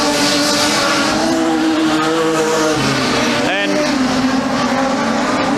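Production sedan race cars roar down the back straight of a circuit, loud sustained engine drones with shifting pitch as they pass, under an excited commentator's voice.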